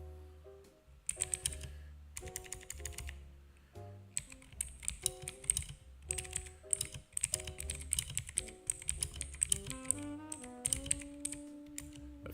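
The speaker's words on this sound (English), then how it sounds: "I feel like my keyboard is a bit too loud." Rapid, steady typing on a computer keyboard close to the microphone, with quiet background music running underneath throughout.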